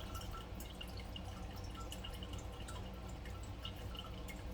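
Homemade vegetable stock from kitchen scraps dripping through cheesecloth as it is squeezed by hand, a quiet stream of small irregular liquid drips and trickles, close and soft, with no talking.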